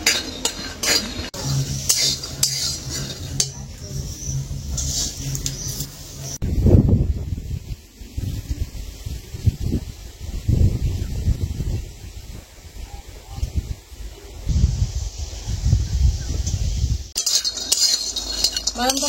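About 150 grams of peanuts roast dry in a pan while being stirred, a close rattling and scraping of nuts and utensil against metal that comes in uneven bursts with brief pauses.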